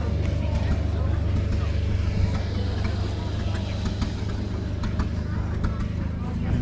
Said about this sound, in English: There's a little John Deere stationary engine. And it's got a little pulley on it. And it's turning this, a water pump.